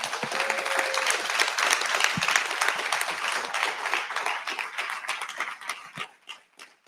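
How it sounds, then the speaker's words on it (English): An audience applauds, dense clapping holding strong for several seconds before thinning into scattered claps and fading out. "Let's give them a round of applause."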